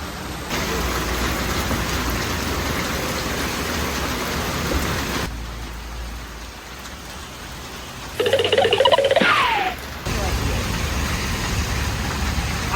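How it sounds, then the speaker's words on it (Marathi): Heavy rain falling on a road trip toward Goa, a loud continuous hiss of rain drumming with brief changes in texture and a louder passing noise partway through. "पाऊस तर लई वेट पडायला लागला भयंकर"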